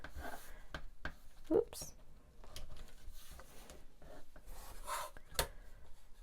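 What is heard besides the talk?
trimming quilt half square triangles with ruler and cutter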